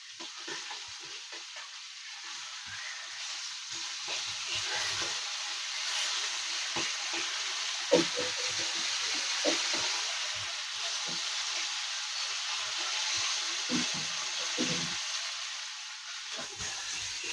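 Pomfret fish, flipped in a wok of mustard oil, keep frying with a steady bright sizzle and frequent small pops and crackles, heard close with no voices.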